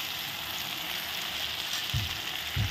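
A spice paste of tomato, onion, garlic, ginger, cumin and coriander fries in a pan, a constant loud close sizzle with two soft thumps of stirring near the end.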